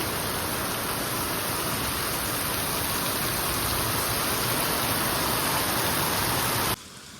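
Heavy rain pours down in a steady, dense, loud roar that fills the scene without pause, then drops away abruptly at the very end.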